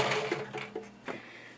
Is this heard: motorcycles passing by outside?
no